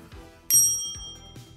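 A service bell on a counter gives one clear, bright metallic ding that rings out and fades over about a second, with soft background noise around it.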